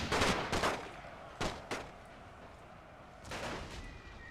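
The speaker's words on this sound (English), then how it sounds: "Still exchanging fire." Volleys of rifle fire in a World War One siege battle in The Great War: Total War game, with several clustered bursts of shots at moderate distance, separated by short quieter gaps.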